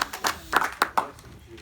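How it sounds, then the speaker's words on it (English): A church congregation claps hands in praise during a revival service, several quick bursts of fairly close clapping in an irregular rhythm, with voices heard underneath. "Give the Lord a hand clap."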